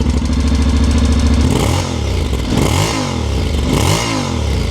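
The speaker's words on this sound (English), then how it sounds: "wouldn't it be rude if we didn't have a little listen to this exhaust?" A Honda NC750X DCT motorcycle engine rumbles steadily, then its exhaust revs up in three loud, rising bursts that fall back between each blip, close by.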